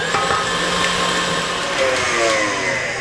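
Electric mixer running on high speed through banana bread batter, a loud steady close whir holding constant for the whole stretch, with no talking over it.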